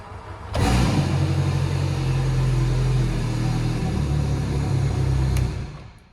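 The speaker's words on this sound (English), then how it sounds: "you push the key in to start the engine" A Suzuki 100HP four-stroke outboard engine on a boat cranks and fires, then runs steadily at a loud, close idle with a low droning hum for about five seconds before shutting off.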